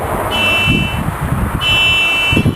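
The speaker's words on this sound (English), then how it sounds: "My car alarm keeps going off." A car alarm blares in repeating high, buzzing tones that start and stop in cycles, loud and close, with low rumbling noise underneath.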